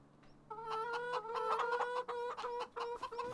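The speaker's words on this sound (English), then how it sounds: "See what the chickens have. They sound like they're getting it on, getting it on." Farm chickens on Elm Creek cluck busily in a dense, overlapping run of short calls, close and fairly loud, with no talk over them.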